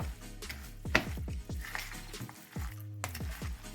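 A hash brown mixture being stirred in a pan, wet squishing and scraping strokes over a low sizzle, with repeated spoon knocks against the pan.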